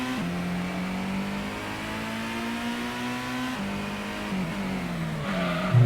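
Car engine revving and sliding in the PS1 racing game Gran Turismo: a steady, droning engine note rises slowly, dips as the car slides through a corner, then climbs again, with a short tire squeal at the very end.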